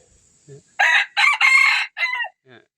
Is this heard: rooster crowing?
yes